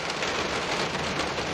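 Steady rain falls on a December day at a home construction site with framed-out walls, a continuous broadband hiss of drops with no voices.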